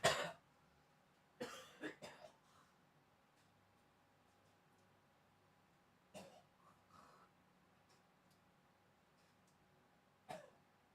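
Several separate coughs, close and fairly loud, come in short bursts of two or three with long quiet gaps between them, from someone during a break in a live Age of Empires IV stream.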